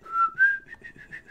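A short whistled melody imitating the Steamboat Willie tune, heard during a Legend of Zelda: The Minish Cap game session. The phrase is clear and fairly loud, with a few rising and falling notes followed by a run of shorter repeated notes and no talking.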